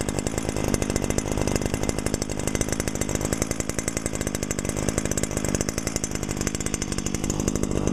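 A small Stihl-type leaf blower, a smaller version of the BR430 motor, runs steadily at close range, its two-stroke engine buzzing in a fast, even, unbroken drone with no talk over it.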